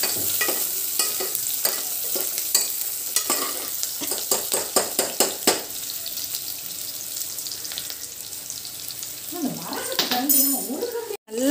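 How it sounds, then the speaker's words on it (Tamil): Onions sautéing in a pan for a paneer vegetable pulao with green chillies, a constant sizzle broken by a quick run of metallic spoon scrapes and clinks, then a voice talks over the frying near the end. "இப்போ நல்லா வெங்காயத்தை நல்லா வதக்கிக்கலாம்"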